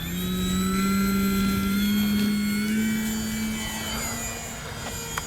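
FMS 1700mm PA-18 Super Cub RC plane taking off into the wind, its electric motor a loud, steady high-pitched whine that holds strong and then eases slightly toward the end, with no voices.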